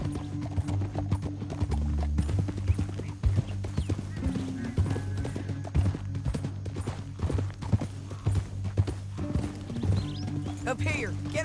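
Horse hooves clip-clop steadily in Red Dead Redemption 2, a close, rhythmic trot running through the whole stretch over a low music bed, with a brief whinny near the end and voices talking in places.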